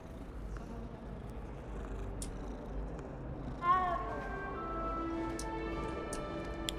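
A cat in Hogwarts Legacy lets out a clear, rising meow over a quiet background, after which a light musical shimmer and faint ticking carry on.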